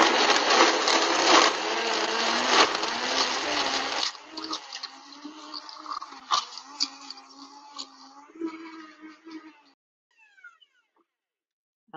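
A high-powered blender roars loudly as it works through a thick coffee milkshake, then slows and winds down into choppy sputtering before stopping, leaving near silence.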